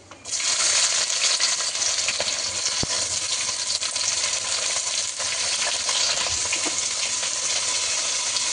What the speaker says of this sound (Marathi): नंतर आता टाकूयात कांदा